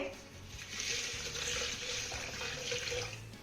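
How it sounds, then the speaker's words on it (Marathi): Water streams steadily into a mixer jar for a few seconds, a continuous hissing pour with faint clinks underneath. "सुरुवातीला मी अर्धा ग्लास पाणी यामध्ये घालतीये"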